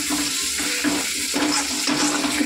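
Chopped tomato fries in a pan with a continuous hissing sizzle, broken by soft, regular pulses as if stirred.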